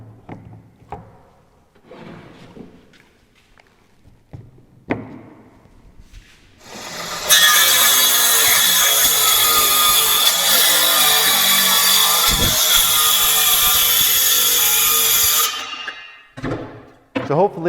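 A homemade track saw, a circular saw riding a shop-built guide, rips through a clamped board in one loud, steady whine lasting about eight seconds, preceded by quieter shuffling and clamping noises and a brief spin-down at the end.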